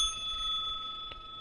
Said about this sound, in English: do not forget to smack that notification bell